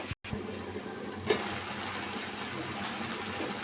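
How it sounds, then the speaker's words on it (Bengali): Water poured off boiled potatoes in a home kitchen, a steady moderately quiet gushing stream that runs almost the whole time after a brief clunk at the start. "এটা আমার সিদ্ধ হয়ে গেছে আলু টালু। আমি এবার এটা ঢেলে নেবো। সব ঢেলে নিয়েছি।"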